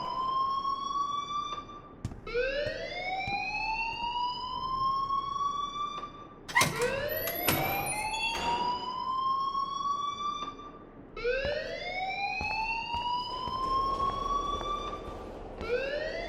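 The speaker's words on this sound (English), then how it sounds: "please turn off that alarm since that's your job" A rising-and-falling wailing alarm sounds in the video game Life is Strange, sweeping upward in repeated cycles, loud and steady, with a brief burst of clattering noise midway.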